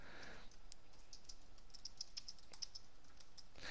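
Quiet keystrokes on a computer keyboard while a message is typed into a website chat, with soft irregular clicks in short runs and no talking.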